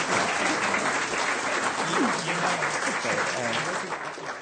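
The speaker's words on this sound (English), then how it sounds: "round of applause, tremendous insights and information" A room full of people claps steadily, dense applause throughout with a few faint voices underneath, tapering slightly at the end.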